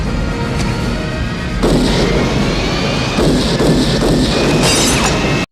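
Loud pistol gunshots crack in quick bursts over a rumbling background, the shots blending into a dense stretch of firing, in an action film.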